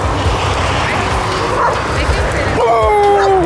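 Labrador mother dog and her puppies barking, yipping and whimpering close by, with a human voice talking over the dog sounds throughout.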